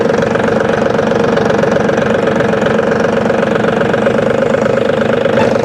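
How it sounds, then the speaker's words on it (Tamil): A Powertrac Euro G28 4x4 mini tractor's engine runs at a steady, close knocking idle, a continuous diesel chug with no talk over it. "எந்த மேடு பள்ளமாக இருந்தாலும் ஹை கிளியரன்ஸ் இருக்கிறதால உங்களுக்கு இந்த மினி டிராக்டர் ஓட்டுறது சூப்பராக இருக்கும்"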